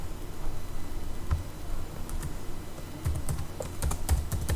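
Fingers type on a computer keyboard while someone writes code, a steady, close patter of light key clicks with louder irregular taps toward the end, over a faint background hum.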